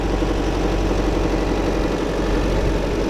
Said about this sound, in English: Misfire, misfire, misfire, misfire, misfire.